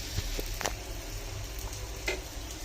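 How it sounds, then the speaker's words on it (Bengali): Chilies fry in a pan with a soft, continuous sizzle and a few light pops and stirring scrapes, close and fairly quiet. "মরিচটা কষাই নিই"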